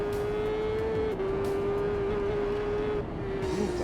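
A superbike engine in TT Isle of Man 3 drones at a steady high pitch, dipping briefly as it shifts and then holding, with no talk.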